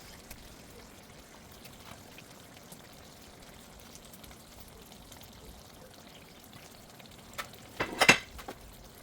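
Slightly fried fish goes into a stew pot, which gives a steady faint sizzle and bubble throughout, followed by a short louder splash and crackle near the end.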